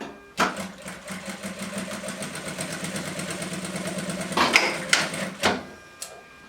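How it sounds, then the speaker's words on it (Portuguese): A sewing machine runs a seam along the edge of a baby blanket, giving a rapid, even, close-up stitching chatter for several seconds, then a few separate clunks as it slows and stops. "Aí eu encaixo ela bem certinha aqui em cima e passo uma costurinha"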